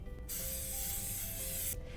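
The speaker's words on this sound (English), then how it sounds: "I'm ready to spray my pan very well with Bake Easy" Bake Easy non-stick spray hisses steadily onto a cake pan in one continuous burst of about a second and a half, close and fairly loud, with no voices.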